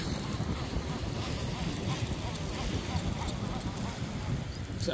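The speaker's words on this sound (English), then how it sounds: "Bloody windy." Strong wind buffets the microphone in a constant low rumble while sea fishing, with faint background noise and no clear speech.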